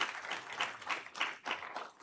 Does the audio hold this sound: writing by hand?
no